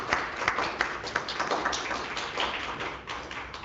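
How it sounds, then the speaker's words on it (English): A crowd at a Black History celebration applauds Angela with steady, dense clapping throughout, close and full. "Let's give Angela another round of applause."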